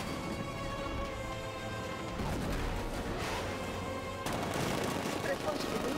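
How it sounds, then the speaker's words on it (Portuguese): Rapid bursts of heavy 60 mm tank cannon fire in Batman: Arkham Knight, loud and continuous over a dense, roaring battle backdrop, with speech faintly mixed in. "Canhão de 60 mm em operação."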